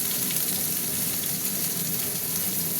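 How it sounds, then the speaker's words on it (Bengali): Onions fry in a pan with added spices and ginger-garlic paste, a constant loud sizzle and crackle with no pauses and no talk. "পেঁয়াজ ভাজা হয়ে গেছে, মশলা দিলাম, আদা রসুন বাটা দিলাম,"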